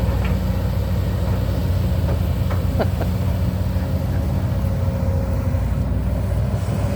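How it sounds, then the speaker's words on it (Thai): Hino engine of a Kobelco SK200 excavator running on a dredging job, a steady, heavy low rumble throughout with faint mechanical clinks, no talking. "เครื่องยนต์ฮีโน่ครับแพ็คคู่เนี่ย"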